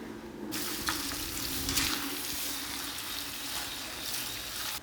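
Curry leaves drop into hot oil as chicken curry fries, giving a steady close sizzle with faint stirring and a brief louder crackle near the start.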